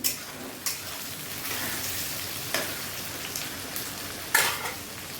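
Onions frying in a pan for chicken biryani give a continuous crackling sizzle, punctuated by several sharp scrapes and taps of a spoon stirring against the pan.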